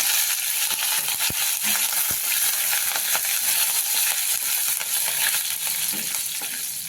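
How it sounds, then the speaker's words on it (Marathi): Mustard seeds, cumin and curry leaves hit hot oil for a Maharashtrian raw-mango kayras, giving a loud, continuous sizzle with sharp popping crackles scattered throughout and no speech. "मोहरी टाकली अर्धा चमचा आता जिरं अर्धा चमचा कढीपत्ता टाकून घेऊ"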